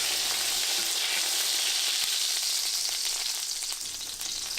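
Chicken cutlets fry in a pan for chicken piccata, a steady bright sizzle that holds loud and even throughout, dipping slightly near the end, with no voices over it.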